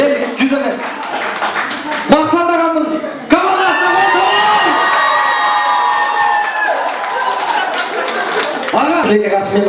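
Guests at a Kyrgyz family celebration in Krasnoyarsk cheer and clap for a team during a party contest: a loud, dense crowd with shouts and whoops that swells after a brief dip and stays lively throughout.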